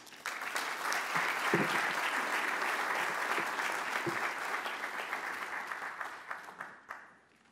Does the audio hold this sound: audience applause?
yes